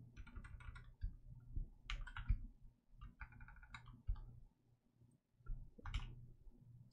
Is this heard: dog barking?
no